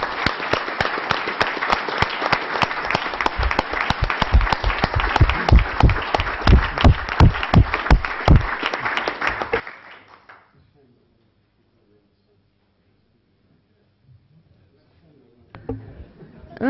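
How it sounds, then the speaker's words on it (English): Audience applause at a full council meeting for young petition presenters, a loud dense burst of clapping lasting about ten seconds before quickly dying away to near silence, with faint movement noises near the end. "Perhaps another round of applause for our youngsters."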